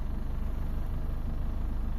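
A Mitsubishi Lancer GLi engine idles at about 700 RPM, a close, steady low rumble with an even rapid pulsing throb that holds unchanged throughout, with no voices.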